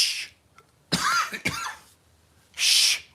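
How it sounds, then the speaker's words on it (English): Several short, sharp coughs from one person, a quick pair followed after a pause by another burst, close and clear against a quiet background. "Don't cough."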